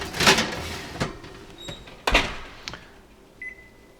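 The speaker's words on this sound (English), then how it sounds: "you put this in the oven" Metallic clanks and thuds as a pizza pan is slid into an oven and the oven door is shut, several sharp knocks spread over a few seconds, close and fairly quiet.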